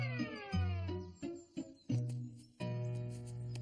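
A cartoon kitten gives a string of high, wavering meows, several in a row with short gaps between them, loud and close, with no talk.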